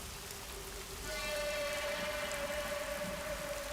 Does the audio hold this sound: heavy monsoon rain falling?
yes